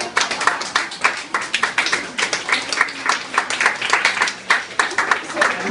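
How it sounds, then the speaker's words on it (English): An audience at a book launch claps and applauds, a dense, close patter of many hands that swells and dips in waves throughout. "Never in my life did I think I would be receiving applause for my diary."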